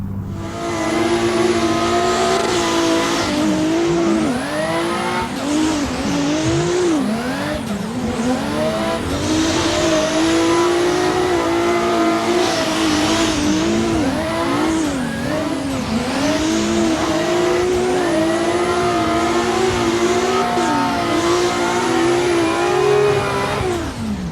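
A BMW E46 street car driving hard, its engine repeatedly revving up and dropping through gear changes, with occasional tire squeal, close and loud throughout.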